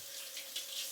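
A kitchen tap runs steadily as strawberries are rinsed, a close, even hiss of flowing water with slight splashy swells and no voices.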